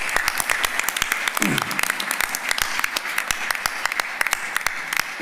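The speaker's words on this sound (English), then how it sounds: "let's give them a big round of applause as well" An audience at a State of the County address applauds for the sheriff's department, a thinning patter of individual claps rather than a dense roar, with a brief voice heard partway through.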